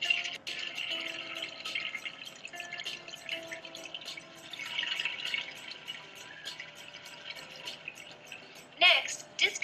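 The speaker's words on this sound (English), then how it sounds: "Flush the toilet to empty the tank." A household toilet flushing to drain its tank before a flapper replacement, a steady rush of water through most of the clip with a louder gurgle near the end, heard close with faint talk under it.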